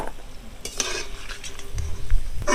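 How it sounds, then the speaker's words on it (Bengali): Small gaja sweets made from maida dough sizzle in hot oil while a ladle scrapes and clinks against the pan as they are lifted out, giving a few sharp metallic knocks over a steady frying hiss. "তেলটা একটু ঝরিয়ে আমি তুলে নেব"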